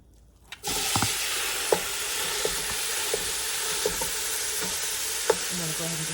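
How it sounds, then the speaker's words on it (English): Ground turkey browns in a small amount of oil in a pan for a freeze-dried turkey pumpkin chili, giving a steady close sizzle and frying hiss. Occasional light scrapes and taps of a stirring utensil rise above it, with no talking. "I'm going to go ahead and just brown up this ground turkey"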